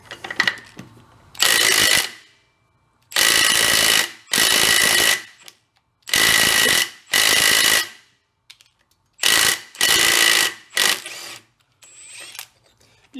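Socket wrench on a deep socket working a reverse-threaded nut on a broken reel mower, heard as a string of loud, rapid ratcheting bursts separated by short pauses, close up.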